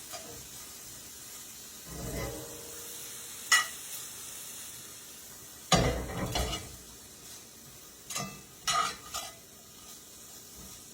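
Peppers, onions and garlic fry together in a pan, a soft steady sizzle broken by several louder scraping stirs of a utensil against the pan.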